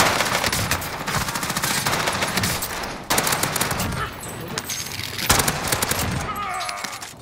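Sustained automatic gunfire from a Warzone match, dense rapid bursts running throughout with brief breaks, loud and close, with some voices talking underneath.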